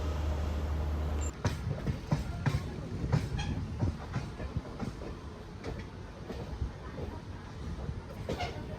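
A MEMU passenger train runs from Khurda Road toward Puri, its wheels clattering in a steady rhythm over rail joints with a constant rumbling interior drone, heard from inside a coach.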